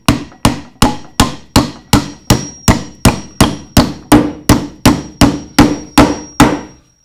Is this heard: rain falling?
no